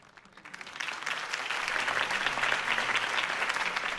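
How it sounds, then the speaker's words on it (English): A video game crowd in Batman: The Telltale Series breaks into sustained applause after a speech, swelling quickly and holding steady as a dense wash of clapping. "If only Mr. Wayne, my campaign's largest backer, could have heard that applause"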